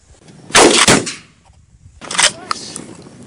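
A Stevens Model 320 pump-action shotgun fires two loud, sharp blasts outdoors. Each blast trails off in a short echo, and there is a quiet gap between them.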